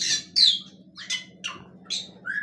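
Birds in an aviary beside a mango tree give a series of sharp, loud squawks, about six separate calls spaced irregularly over a low steady background hum.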